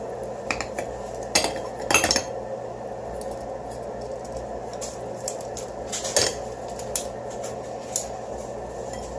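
Utensils clink and scrape against a plate or pan as bacon is pulled off a wrapped goose, with a few sharper metallic knocks over a steady kitchen hum.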